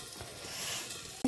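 Leafy greens fry in a pan with a soft, continuous sizzle, faint and close, ending in a brief clack of a utensil against the pan.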